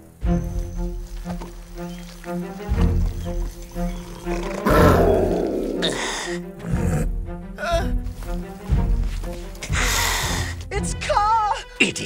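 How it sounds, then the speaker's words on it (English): A panther in a Jungle Book cartoon gives several loud, growling roars and snarls over a layer of music, with breathy snorts and gasps between them. "It sounds like a certain panther."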